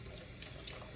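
Water runs faintly from a kitchen tap for a smoothie, a soft, steady trickle with small splashy bursts, heard quietly at a distance.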